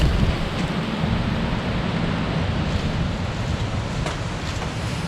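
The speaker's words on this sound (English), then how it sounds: "Oh, it's raining" Rain falls on a home vegetable garden in July as a storm with hail threatens, a dense, steady hiss of drops with some wind rumble, continuous and fairly loud with no talking.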